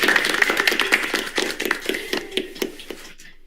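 A steady run of sharp claps or taps, about a dozen in quick even rhythm, fairly close, trailing off into silence.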